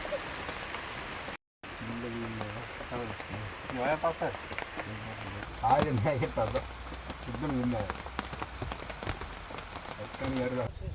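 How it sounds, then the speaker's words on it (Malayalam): Steady heavy rain patters on a surface throughout at night in Sigiriya, Sri Lanka, with a person talking over it; the downpour holds constant in the background. "മഴയുണ്ടല്ലോ നല്ല ശക്തമായി പെയ്യാൻ തുടങ്ങി"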